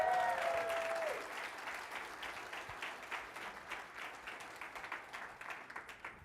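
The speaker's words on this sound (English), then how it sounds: "Yes, you can cheer for that." An audience at a LibertyCon International 2022 conference breaks into applause and cheering, loudest at first with a whistle-like call, then settling into steady clapping that tapers off.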